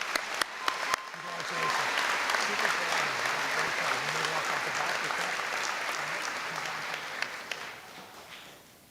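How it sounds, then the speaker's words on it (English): At an 8th grade promotion ceremony, a few scattered claps build into steady audience applause for an award recipient, with a voice speaking briefly under the clapping. "A round of applause to Jacqueline."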